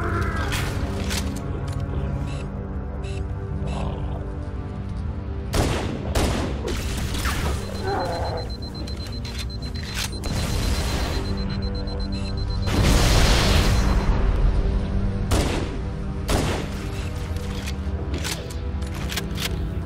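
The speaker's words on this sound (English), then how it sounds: "I like to try to speed things up a little by firing at the elites and tossing some grenades." Halo Anniversary combat on Legendary: rapid bursts of weapon fire crackle repeatedly, punctuated by heavy grenade blasts, the loudest rumbling boom arriving midway, all steady and close with no talk over it.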